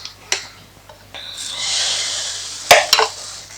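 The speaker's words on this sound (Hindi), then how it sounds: "पहले हम डालेंगे बैटर।" Dosa batter poured onto a hot tawa gives a soft hiss that swells and then holds steady for about a second, followed near the end by a couple of sharp utensil clacks close by.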